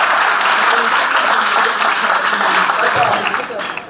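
Audience applause at a government college event in Lahore, a dense, steady clatter of many hands clapping that holds loudly throughout, then thins and fades near the end.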